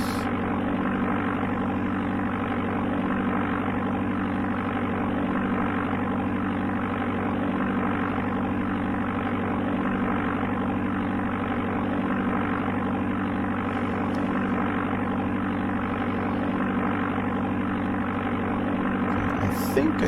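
Steady, continuous drone of a propeller airplane engine from the Amiga game Flight Simulator II, a constant mid-pitched hum under cruise power during a descent, holding at an even level with no voices heard.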